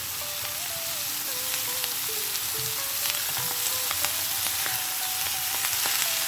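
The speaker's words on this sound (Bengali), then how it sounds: "বেগুনটা কিছুক্ষণ ভেজে নিয়ে এবার আমি শাকটা একটু একটু করে মিশিয়ে দেবো" Eggplant and bethua greens frying in a pan, a steady close sizzle that runs throughout, with faint occasional clicks and stirring touches.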